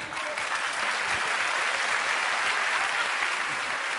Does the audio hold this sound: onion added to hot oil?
no